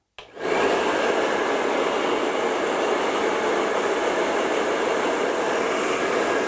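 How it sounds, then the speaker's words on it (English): A hair dryer switches on and runs on medium at a steady, even whoosh, a loud continuous airflow hum with no talking. "I usually start with blow dryer on like medium"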